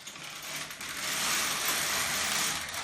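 A knitting machine carriage is run across the needle bed for several rows while knitting a baby bunting, giving a steady, close mechanical whir and rattle that swells in the middle and runs continuously without talk.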